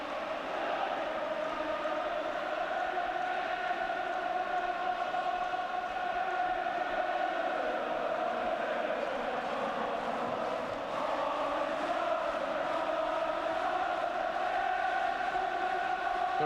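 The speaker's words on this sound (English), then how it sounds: "And the crowd rising to a crescendo now." Football stadium crowd at the 1981 England v Scotland British Home Championship match, a dense, steady roar that holds at an even level from start to finish without breaking.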